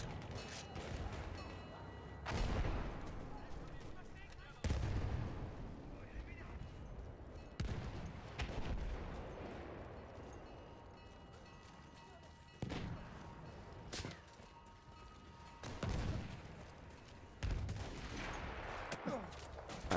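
Heavy gunfire from a sniper rifle in Battlefield 1 is heard as a series of sharp, booming shots spaced a few seconds apart, each with a rumbling tail. Distant battle noise and a voice sit underneath at low volume.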